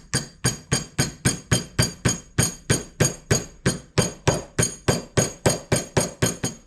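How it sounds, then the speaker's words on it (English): A rubber hammer taps a wheel hub bearing seal into the front hub of a Honda 350X, about two dozen sharp, evenly spaced blows struck close and loud, with no talking. "rubber hammer works the best because it'll tap it in without damaging the surface"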